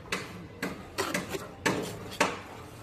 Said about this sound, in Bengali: আমি কুচিয়ে নিচ্ছি কিছুটা।